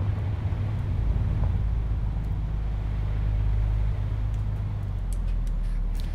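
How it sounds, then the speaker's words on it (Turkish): A Neoplan Tourliner bus drives along in Euro Truck Simulator 2, giving a steady low engine rumble with road noise that stays loud and even throughout, with faint ticks near the end. "Şöyle bir otobüs yolculuğu yapalım güzel güzel."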